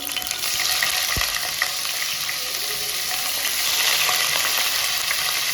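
Paneer frying in smoking hot oil in a pan, a dense, steady sizzle and crackle that fills the whole stretch, close and continuous with no talking.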